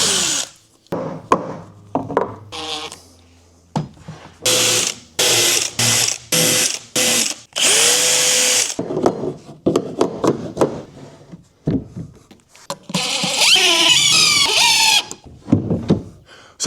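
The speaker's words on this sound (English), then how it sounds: "I'll be marking and drilling a small hole for the clip to end up going into" A power drill boring a small hole in a composite deck board during dock assembly, heard as repeated loud bursts of whirring and grinding, some short and some sustained, close up with no talk between the runs.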